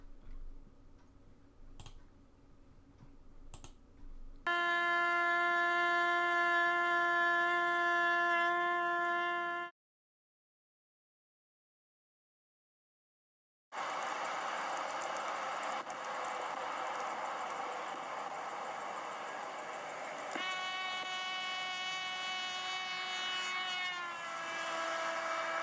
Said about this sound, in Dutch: Je hoort dus dat als de bron naar je toe beweegt, de frequentie of de toon hoger is.